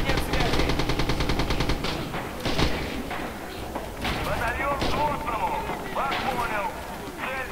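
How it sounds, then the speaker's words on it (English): Battlefield gunfire in the WWII shooter Red Orchestra 2 on the Bridges map: rapid machine-gun bursts, scattered rifle shots and heavy thumping impacts that sound like incoming artillery, dense and continuous with radio-style voices talking over it. "Artillery incoming on Delta 8."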